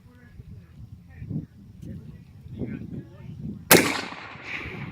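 AR-15 rifle fired outdoors: a single sharp, loud crack near the end trailing into a brief echo, with quiet murmuring and background noise before it.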